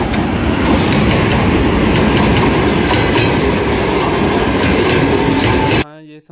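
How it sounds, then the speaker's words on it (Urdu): A train runs loud and close on an Uzbekistan railway, a steady roar of wheels and clickety-clack rumble that cuts off abruptly near the end. "میرے رائٹ سائڈ پہ فروسی اب ٹرین ہے اور یہ سادہ ریل وے ہے"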